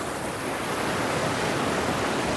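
River water flows at Pedra do Ingá in Paraíba, a steady, even rushing wash of moderate loudness that continues without a break and without voices.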